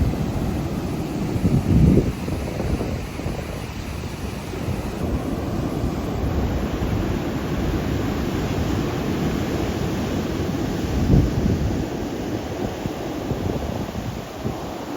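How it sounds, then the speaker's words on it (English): Ocean waves on a beach in Jamaica's St. Elizabeth and Westmoreland parishes give a steady, loud roar of surf, with two heavier breaking surges and constant wind buffeting the microphone. "I'm always worried you guys can't hear me because of the waves."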